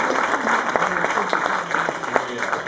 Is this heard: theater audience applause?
yes